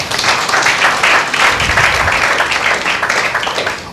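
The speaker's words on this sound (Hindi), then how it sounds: "बहन के लिए ताली बजाएंगे।" Loud, close applause from a Hindi-speaking Sunday church congregation clapping for a sister, dense overlapping handclaps pulsing steadily for several seconds without speech.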